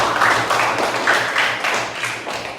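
Students in a classroom clap for the second group's score, a moderate round of many hands with slight pulsing swells, steady throughout over a faint low hum.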